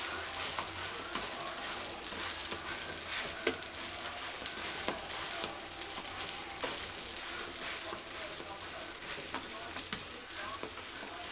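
Semolina batbout bread sizzling on an oiled crêpe griddle, a steady soft frying hiss with scattered crackles and light clicks throughout.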